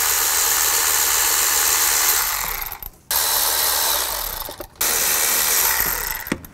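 An 8mm socket on a tool loosens the valve cover bolts of a Chevy Tahoe, making three steady, close, whirring runs of about two seconds each with brief stops between them.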